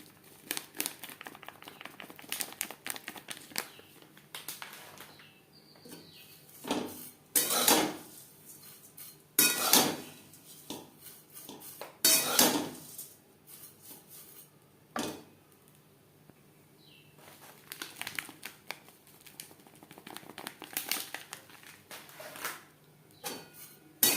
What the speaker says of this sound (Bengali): এইভাবে নাড়তে থাকবো আর গুঁড়ো দুধ অ্যাড করতে থাকবো